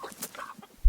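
Chickens in a poultry-net pen cluck softly while being fed, with a couple of brief low clucks and a quick thump near the end, close and quiet.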